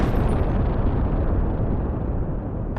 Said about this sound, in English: there is a massive, massive explosion outside